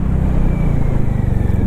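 A Hero Maverick 440 motorcycle rides over gravel, its engine giving a loud, close, steady throbbing rumble throughout with no talking.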